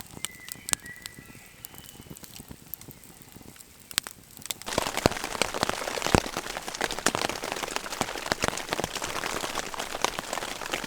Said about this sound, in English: So I was hoping that the rain had stopped, and then 1 minute later it started again.